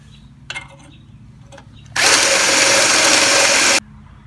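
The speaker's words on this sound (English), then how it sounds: "Drill that out and exercise with the step bit." A few short clicks and taps, then a power drill with a step bit whirs loudly and steadily for about two seconds before stopping abruptly.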